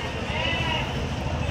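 Goats bleat at the Angallu weekly livestock market, close and clear over busy crowd chatter as people talk nearby.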